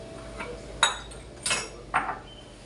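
Several sharp clinks of dishes and cutlery knocking together, spaced a moment apart over faint background hiss.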